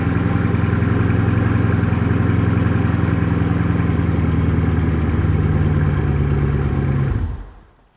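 A modified, non-stock supercar engine runs loud and steady inside a private supercar garage, a deep continuous drone with a held pitch that shifts slightly near the end before cutting off abruptly.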